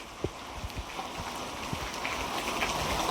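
Light monsoon rain patters faintly and continuously on the stone steps of Girnar hill near Junagadh, with a few soft thuds near the start.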